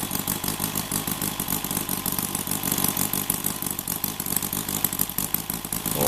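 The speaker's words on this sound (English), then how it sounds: "as you can see, the engine's running very sweetly." A converted OS IL300 model engine runs steadily with a fast, even, rattling beat, loud and close throughout with no talking.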